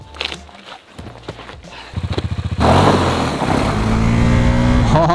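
A KTM 390 motorcycle engine revs in a fast burst of pulses, then roars loud and sustained as the rider accelerates on the road, close and dominant, with a rising engine note near the end.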